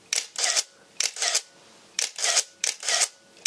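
A Nikon Zf camera shutter fired by a motor drive button, four double-clicked shutter actuations in a steady rhythm, each a crisp close snap followed by a whirring reset, loud and alone.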